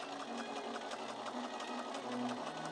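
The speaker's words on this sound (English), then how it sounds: "It was mostly just sewing straight lines, and calico isn't particularly shifty, so it went okay." A sewing machine runs continuously in a steady, fast mechanical whir, stitching straight lines through calico with wadding for a Victorian ball gown, close and even in level throughout.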